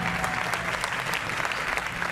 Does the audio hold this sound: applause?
yes